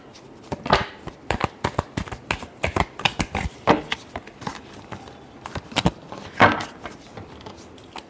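Tarot cards shuffled by hand in a steady run of crisp riffling flicks and soft slaps, close and fairly loud, with no talking.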